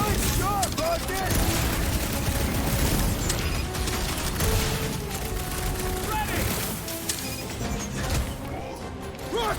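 Continuous rapid gunfire and mechanical clatter fill a Guardians of the Galaxy combat scene, a dense barrage of shots and impacts with crashes, while voices talk over the fight and a musical score plays underneath.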